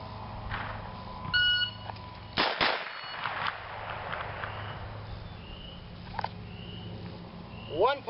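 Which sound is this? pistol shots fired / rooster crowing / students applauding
pistol shots fired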